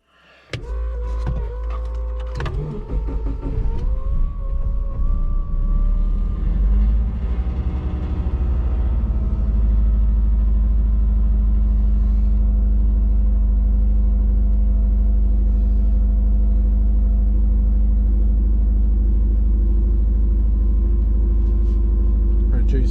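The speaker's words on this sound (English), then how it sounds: "Let's start the car." A twin-turbo Subaru engine cranking with a whirring starter, catching, and settling into a steady, loud, deep idle rumble that continues close by throughout.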